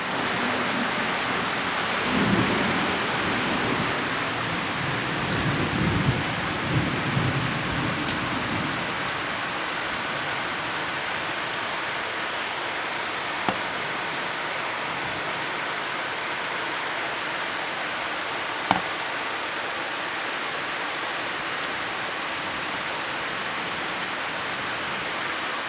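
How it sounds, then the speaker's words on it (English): Thunderstorm in southeastern Pennsylvania, steady heavy rain hissing throughout, with low rumbling thunder early on and a couple of sharp cracks later. "now there's a severe thunderstorm warning for 60-mile-per-hour winds"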